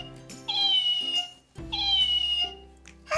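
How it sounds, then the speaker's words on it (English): A toy cat gives two electronic meows at the press of a button, each a drawn-out tonal cry with a short pause between them. "There's just a little button right here that you press and then it will meow."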